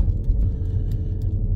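A car drives along a road with a low, steady engine rumble and road noise, close and continuous, broken only by a few faint ticks.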